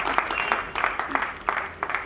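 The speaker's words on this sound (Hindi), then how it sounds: "एक बार जोरदार तालियां बजा करके बहनों का स्वागत" Audience at an Arya Samaj bhajan gathering clapping loudly to welcome guests, a dense burst of rhythmic, close applause with regular pulses throughout.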